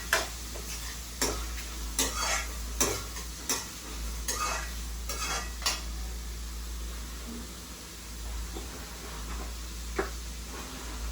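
Onions for prawn thokku sizzle steadily in a pan, with a spoon or spatula scraping and stirring in sharp strokes every second or so, then easing to a softer, quieter fry toward the end; no talking.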